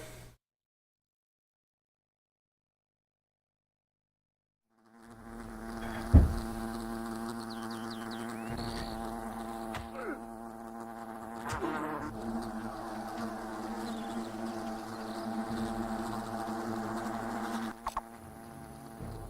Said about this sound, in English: they want us to kill all the wasps in the picnic area